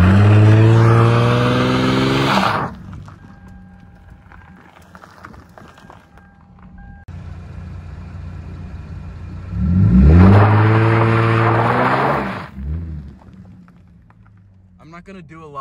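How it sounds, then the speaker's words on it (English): A Lexus IS250 in first gear on dry pavement does a burnout, the engine revving loud and close in two long bursts with quieter idling between them. "So here's the proof that it actually does do a burnout."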